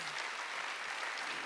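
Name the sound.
congregation clapping in church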